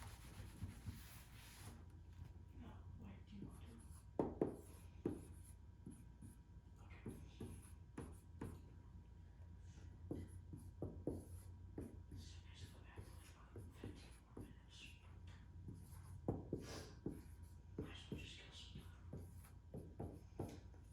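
A marker or pen writing practice problems on a whiteboard or paper, faint intermittent scratching and rubbing strokes in short bursts, with some quiet speech among them.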